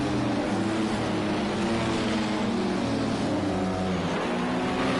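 Sportscars race at Daytona International Speedway in the Project Cars 2 racing game. Several engines drone and rev together in a loud, continuous pack roar with shifting pitch.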